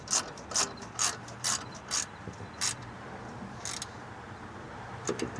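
A ratchet wrench with a 13mm socket tightens a bolt on a machine in a series of sharp, close clicking bursts, several quick pulls followed by a pause and a few more clicks at the end.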